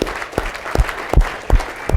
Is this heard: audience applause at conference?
yes